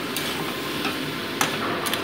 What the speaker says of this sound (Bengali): ভালো মতো সবজিটাকে 5 মিনিট আমি ভালো করে কষিয়ে নিচ্ছি